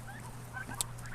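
Turkeys on a pasture farm give faint gobbling, warbling calls over a steady low hum, with a sharper chirp standing out partway through.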